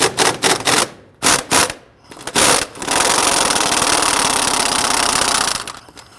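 Power tool loosening the top motor mount nut on a 2008-2013 Infiniti G37x 3.7L V6, several short loud rattling bursts followed by a longer sustained hammering run that stops abruptly.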